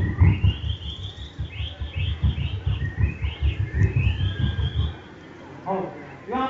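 A man at a school whistles and mimics bird calls, producing a run of sliding, chirping notes close up while low voices murmur beneath, ending with a brief rapid trill.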